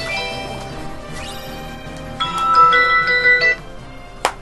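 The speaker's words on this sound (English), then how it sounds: "Shut up, phone!" A phone rings with a bright, repeating electronic ringtone melody, loud and close, following a busier stretch of mixed tones and a sharp click near the end.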